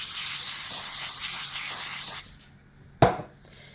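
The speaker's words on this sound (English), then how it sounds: "Each one is going to get sprayed with some non-stick spray." Non-stick cooking spray hisses onto sheets of tin foil in a steady, close spray lasting about two seconds, then stops; a short sharp rustle or tap follows a moment later.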